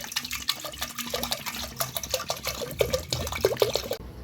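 Rice and moong dal being washed in water in a kitchen, with repeated splashes, swishes and trickling pours of water, close and fairly busy, with no talking.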